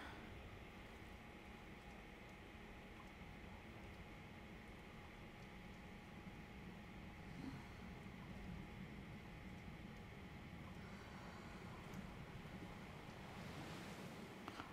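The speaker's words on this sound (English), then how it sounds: "Oh, the ocean." Ocean waves wash in a steady, continuous surge, with wind noise rumbling across the microphone and no clear breaks between swells throughout.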